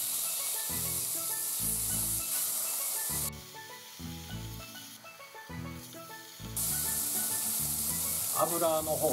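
Steady loud sizzling of pork shoulder searing in its own fat in a hot pot, continuous hiss with a brief quieter stretch mid-way, then full sizzle again.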